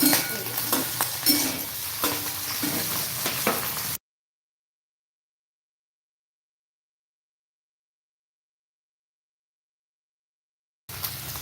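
Eggs being scrambled and fried in a wok: steady sizzling with spatula scraping and stirring for about four seconds, then a long silence before the sizzle briefly returns.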